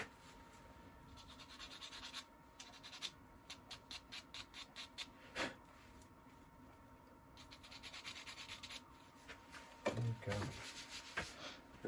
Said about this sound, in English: just rub a little bit of wax onto that